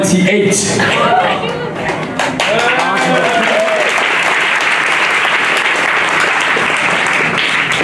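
A crowd at a house dance battle in Japan applauds and cheers loudly, with dense clapping and shouts. A few whoops rise over the noise near the start before the sound settles into sustained, even applause.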